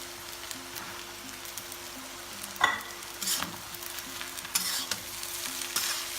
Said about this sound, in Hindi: राइस को मिक्स कर रही हूँ।